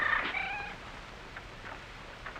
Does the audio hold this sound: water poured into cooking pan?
no